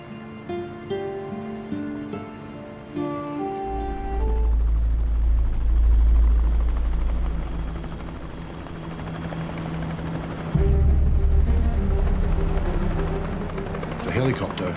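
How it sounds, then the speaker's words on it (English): A helicopter approaches over the open ocean to reach a stranded family at sea. Its deep, pulsing rotor roar builds loudly after a quieter musical opening, and voices shout over it. "There's a helicopter!"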